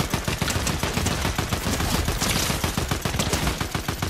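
Rapid automatic AR rifle fire in the Fortnite video game, a dense, loud, continuous burst of shots with no talking.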